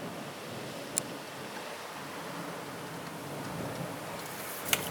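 Steady, soft rain hiss with wind outside, heard from indoors as a faint, even wash, with two brief sharp ticks.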